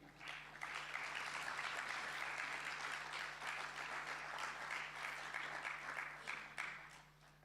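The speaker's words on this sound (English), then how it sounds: "usher them with a big round of applause as they ascend the podium" A hall of delegates at an e-learning summit gives a sustained round of clapping, even and continuous, with a low steady hum underneath and a faint voice.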